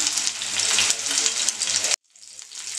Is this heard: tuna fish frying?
yes